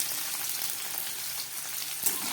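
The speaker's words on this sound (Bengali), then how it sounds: "এবার এর মধ্যে দিয়ে দিচ্ছি কয়েক টুকরো আলু।" Potato pieces fry in hot oil with a continuous close, crackling sizzle and occasional louder pops, with no voices.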